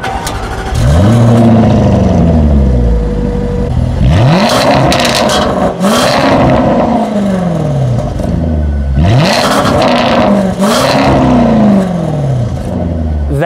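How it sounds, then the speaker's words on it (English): Jaguar XE SV Project 8 sports sedan exhaust revved hard several times, each rev climbing quickly then falling back with crackles, loud and close with no talk. "this exhaust note was very much designed to turn heads"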